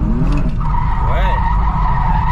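A BMW E30 fitted with a Corvette engine drifts on a course, its tires squealing and skidding in a sustained screech over steady engine roar, while voices talk nearby.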